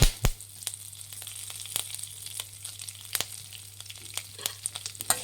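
Curry leaves crackle as they fry in a pan for a wedding-style sambar powder, with a steady low sizzle broken by sharp, irregular pops and clicks close by, with no voices.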